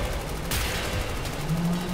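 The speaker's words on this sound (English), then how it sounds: "What is that gunfire?" Video game gunfire, a dense rattling burst of shots that intensifies partway through and continues steadily over a busy background of game noise.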